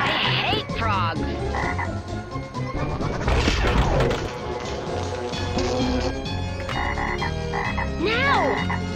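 Frogs croak repeatedly on a pinball video game table amid loud smashes, thuds and chirpy electronic sound effects, with a burst of rising whistles near the end.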